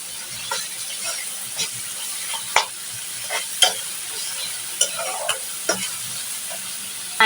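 Tomatoes go into a pan of fried spices for a koi fish bhuna and are stirred, making a soft steady sizzle broken by repeated scraping stir strokes at an uneven pace, close by.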